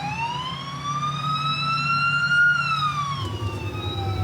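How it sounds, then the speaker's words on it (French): Tow truck siren wailing loudly and close in a steady rising and falling tone, over engine rumble in road traffic during a fuel shortage. "Allume la sirène direct."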